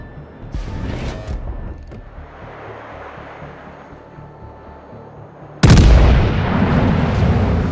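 Warship guns concentrating fire on a target in a naval video game: scattered distant booms and a rumbling backdrop give way to a sudden loud, sustained blast of heavy gunfire near the end.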